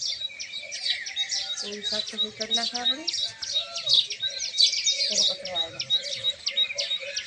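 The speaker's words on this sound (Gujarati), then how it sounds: "ને સારું ચકલા છે મસ્ત બોલે છે" Sparrows chirp steadily in a morning outdoor spot where grain is scattered for birds after rain, a dense run of quick bright tweets running throughout while someone talks over them nearby.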